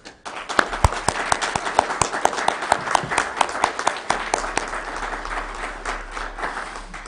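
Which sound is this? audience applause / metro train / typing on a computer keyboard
audience applause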